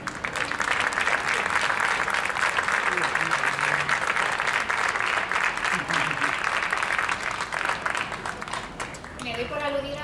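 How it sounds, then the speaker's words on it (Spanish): Loud, dense applause from the audience at an LGBT pride gala in Leganés, sustained for several seconds before tapering near the end as a voice begins to speak. "Un aplauso, por favor"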